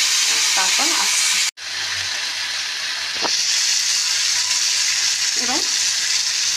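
A pan of food sizzles loudly and steadily as it fries and is sautéed, with a brief cut in the sound, a sharp clink and faint voices in the background.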